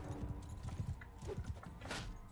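A horse's hooves clop in a rapid, uneven rhythm during a tournament in Mount & Blade II: Bannerlord, soft and fairly close amid faint background noise.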